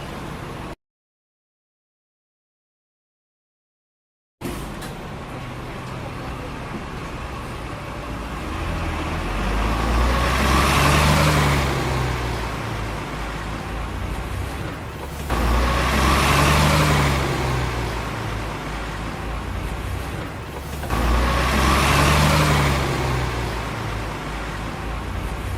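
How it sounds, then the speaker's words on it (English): A bus pulls up to a bus stop. After a few seconds of silence, engine and road noise swell and fade in three repeated surges, with no one speaking. "And not long after, the bus came."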